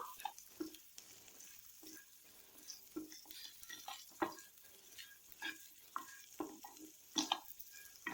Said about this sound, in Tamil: நல்லா கிளறி விடணும் இந்த மாதிரி நீங்கள் கிளறும் போது முருங்கைக்காய் வந்து உடையக்கூடாது